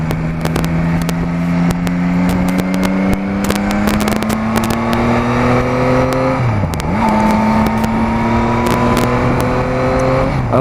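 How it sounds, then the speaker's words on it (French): Engine drone of cars on a road beside a lake, a loud continuous motor hum with shifting pitch as vehicles pass close by, with no talking. "Il y a des voitures"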